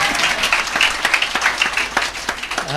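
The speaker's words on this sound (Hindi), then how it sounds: "अरे भैया ताली वाली बजाओ" Audience clapping at a Hindu religious katha gathering, a steady dense patter of many hands close by, with a few louder individual claps and brief voices mixed in.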